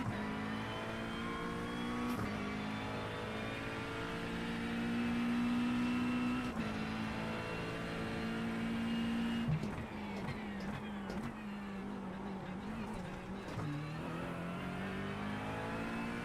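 A race car engine in the iRacing simulator holding a high, droning whine with shifting pitch as it revs, rising and falling through gear changes, steady and loud with no talk.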